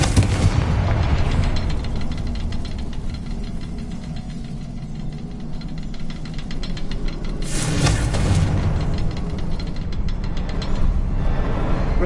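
Rumbling explosive blasts from a Confringo fire spell in a Harry Potter video game, with a heavy continuous low roar and a sharper burst near the middle, dense and loud throughout without any talking.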